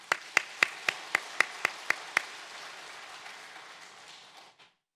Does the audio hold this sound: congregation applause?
yes